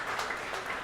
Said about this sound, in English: So can we hear a round of applause for yourself?